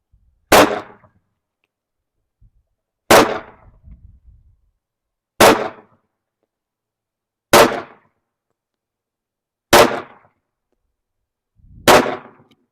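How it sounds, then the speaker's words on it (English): Six sharp CZ100 pistol shots fire at a 25-yard target on an outdoor range, evenly spaced about two seconds apart, each loud crack with a short decaying tail and quiet between. "So I'm going to shoot that target off there to the left."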